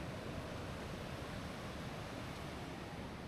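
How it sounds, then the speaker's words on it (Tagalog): Strong sea waves surge steadily onto a beach in Dingalan, Aurora under an overcast sky, a loud continuous roar of surf and wind with no breaks. "Lakas ng alon sa dagat."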